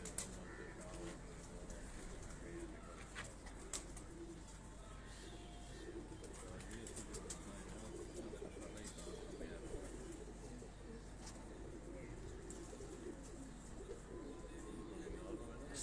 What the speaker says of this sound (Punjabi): ਆ ਜੀ ਤੌਂਸੀ ਕਬੂਤਰ ਤੁਹਾਨੂੰ ਦਿਖਾ ਰਿਹਾ ਜੀ।